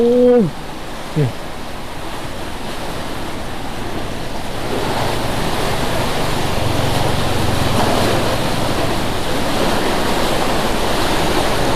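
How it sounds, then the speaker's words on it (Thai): Water rushing loudly through a single opened sluice gate, a dense continuous roar that swells and holds steady after a brief opening voice. "ดูดูน้ำพี่น้องครับ เจ้าหน้าที่ปล่อยบานเดียวนะ"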